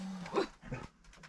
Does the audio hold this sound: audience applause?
no